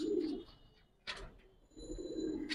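Giribaz and coloring pigeons coo in a loft, with two or three soft low bursts close by, a brief sharp flutter or scrape between them and quiet gaps in between.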